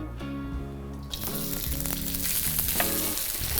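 Onion hits hot oil in a wok with a sudden, loud sizzle that keeps crackling steadily up close.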